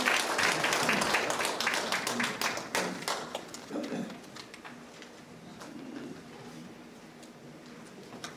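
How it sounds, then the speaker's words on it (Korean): A conference forum audience applauds loudly for a keynote speaker with dense clapping that gradually thins and fades over several seconds. "큰 박수로 맞이해 주시기 바랍니다"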